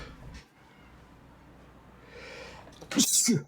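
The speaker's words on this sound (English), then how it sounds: "I need to sneeze again." A single loud sneeze from someone with a cold bursts out near the end, with a sharp intake of breath just before it, close and loud after a quiet stretch.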